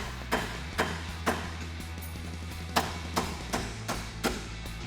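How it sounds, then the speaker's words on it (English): Ball peen hammer tapping a splined wheel stud during a Mustang GT lowering spring install, about ten sharp metallic taps at an irregular rhythm, close and distinct over a low steady hum. "So grab yourself a ball peen hammer"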